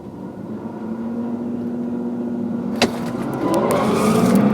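A Volvo XC90 T8 plug-in hybrid SUV launching off the line in a drag race, its engine note rising steadily and growing louder, with a sharp click partway through.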